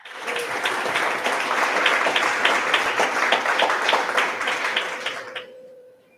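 A church congregation applauds during a doctrine service, steady clapping building and holding for several seconds before fading out, heard from inside the hall.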